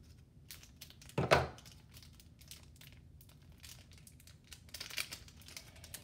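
Putty being pulled and cleared away from a Lost Kitties toy, giving one short, close crinkling, crumpling burst early on, then quieter soft rustling and handling noises.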